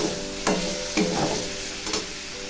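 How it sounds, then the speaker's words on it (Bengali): Spiced masala and potatoes sautéing in a pan, a steady low sizzle with three soft stirring scrapes spaced about half a second apart, close and fairly quiet with no voices. "এটা আলু দিয়ে মশলাটা কষানো হচ্ছে"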